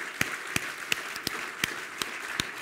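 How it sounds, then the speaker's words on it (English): Audience at an electric microcar unveiling applauding, heard as a faint, distant wash of clapping with a few sharper individual claps standing out at a loose, regular pace. "I think he deserves a little bit of applause."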